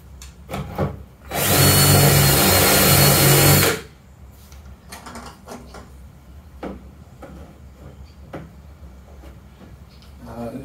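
Power drill boring a hole through bait tank material: one loud, continuous grinding burst of about two and a half seconds, surrounded by quieter clatter and handling noises before and after.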